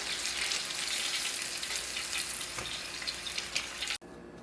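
Chicken sizzles and crackles steadily in hot oil, a dense, close frying hiss with no talking that drops away abruptly near the end.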